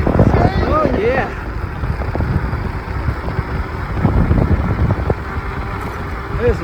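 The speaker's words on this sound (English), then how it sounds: "Wind's blowing back at me, so I'm not getting up the speed I usually do." Headwind buffets the rider of an Ecotric fat tire e-bike, a continuous close roar of wind noise with a brief voice near the start, then steady rushing air for the rest.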